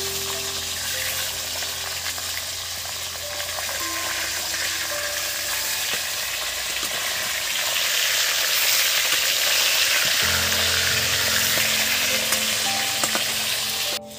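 Pieces of katla fish fry in hot oil in a pan, a steady loud sizzle and crackle that runs without a break and swells a little halfway through, with a faint background hum.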